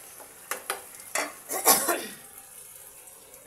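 A pot of okra and rohu fish curry being stirred: a ladle scrapes and clinks against the metal pot in several uneven strokes over a gentle sizzle, close and moderately loud, with no talking.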